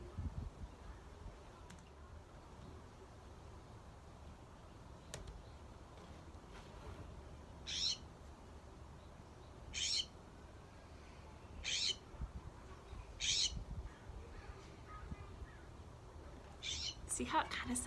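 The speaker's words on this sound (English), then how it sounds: "The scrub jay's call sounds kind of aggressive." Harsh, raspy scrub jay calls played back in short bursts every couple of seconds over steady outdoor background noise.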